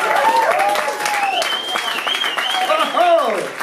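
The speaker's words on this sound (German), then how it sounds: "Damit habe ich jetzt nicht gerechnet, dass jetzt hier noch geklatscht wird nach der Pause." Audience applause after a break, a short burst of clapping mixed with whistling and crowd noise, loud and close, with a voice speaking over it.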